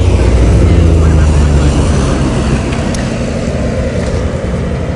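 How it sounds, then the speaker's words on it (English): A small fixed-wing plane arriving at a fly-in event drones loudly and close, its low engine roar holding steady and easing slightly as it passes. "here comes another plane in"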